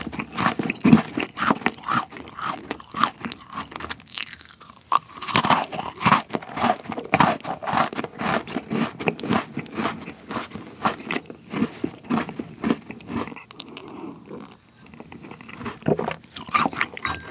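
Crunchy original butter cookies being bitten and chewed close up, with a steady run of crisp crunches and soft chewing that carries on throughout, alone and without talk.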